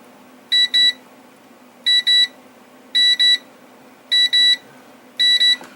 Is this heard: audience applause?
no